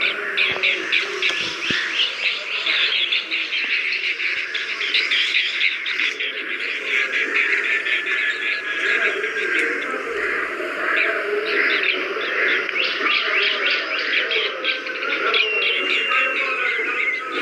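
An Asian green bee-eater calling in open country at Karachi University, with rapid, repeated high chirping trills over a steady background of other birdsong.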